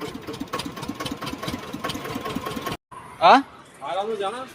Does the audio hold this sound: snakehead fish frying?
no